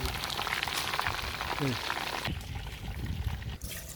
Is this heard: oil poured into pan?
yes